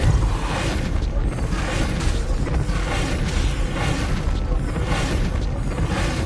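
Depulso force spells cast repeatedly in Hogwarts Legacy, a dense run of booming magical bursts and thumps layered with game effects, loud and continuous throughout with no clear gaps.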